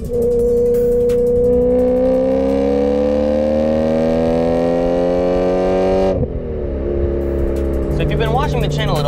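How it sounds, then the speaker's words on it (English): A BMW E93 M3 engine revs hard and climbs steadily in pitch with loud induction and exhaust roar, then drops off abruptly as it shifts and settles to a lower drone. "hearing the engine, the induction noise up front, and what comes out back, the exhaust noise"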